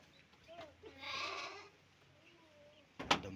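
A ram bleats faintly in the distance amid light evening ambience in a rural village in Banjarwangi, Garut, followed by a sharp knock or clatter nearby.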